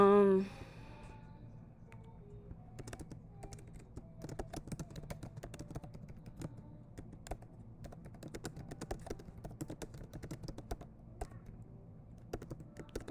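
Rapid tapping on a computer keyboard at close range, irregular bursts of keystrokes going on for several seconds at low level, with a brief voice at the start.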